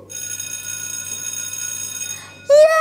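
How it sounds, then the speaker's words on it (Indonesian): A school bell rings with a sustained metallic electric trill that holds steadily, then cuts off as a voice begins speaking. "Ternyata itu suara bel dari sekolah."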